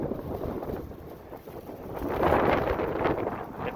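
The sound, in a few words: wind blowing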